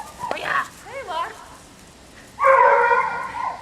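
Puppies yip and whimper in a front yard, a few short high-pitched cries in the first second and a longer, louder whining call near the end, with quiet gaps between.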